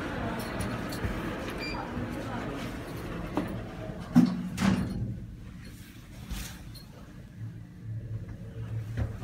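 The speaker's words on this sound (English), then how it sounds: "Doors closing." Lift doors at the British Museum in London slide shut with a muffled thunk midway, over low machinery hum and a faint background voice.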